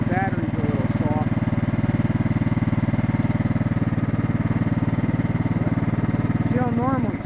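The engine of a Yard-King (Murray) lawn tractor idles nearby with a steady, low, throbbing putter that stays even throughout. Voices speak briefly over it at the start and end.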